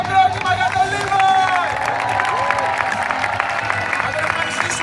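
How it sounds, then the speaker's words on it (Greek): A large crowd applauds and cheers a freestyle motocross rider after an egg roll Superman trick at a Red Bull X-Fighters event, a steady loud wash of clapping with a voice carrying over it. "πάμε ένα χειροκρότημα για τον Levi"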